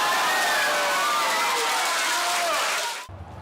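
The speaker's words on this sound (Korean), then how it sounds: "대표팀의 공격이 빠르게 전개되자 함성이 울려 퍼집니다" Fans at a World Cup viewing cheer loudly as Korea's national team attacks against Uruguay, a dense roar of shouting voices that holds steady and then cuts off abruptly.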